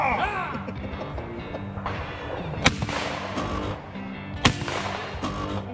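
Shotgun blasts at a sporting clays range, two sharp loud reports a couple of seconds apart standing out over outdoor background noise and murmuring voices.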